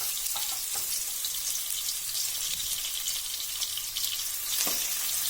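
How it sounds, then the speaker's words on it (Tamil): Crushed onion sautés in hot oil with popped mustard seeds for tomato pepper rasam, making a steady, hissing sizzle throughout with a few faint clicks of stirring and no speech. "இடித்து வச்ச வெங்காயத்தை சேர்த்திக்கணும் ஒரு ரெண்டு நிமிஷம் நல்லா வணக்கி விடுங்க"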